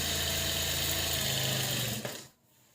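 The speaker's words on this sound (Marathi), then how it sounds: "मशीन तुमची त्याच अंतरावर चालली पाहिजे." A sewing machine stitches the back of a blouse with a fast, steady motor whir and needle rattle. It runs continuously, then stops abruptly near the end, leaving quiet.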